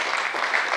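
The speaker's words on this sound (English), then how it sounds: "You can clap for us." A brief wash of clapping from a governance conference audience, moderately loud and steady throughout the short moment with no voices on top.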